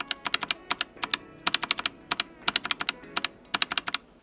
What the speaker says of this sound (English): But how is the typing? How is the clickety-clack?